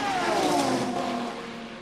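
A Le Mans Series prototype race car at Silverstone slows as it enters the pits, its engine loud and close with a falling whine that fades over about two seconds.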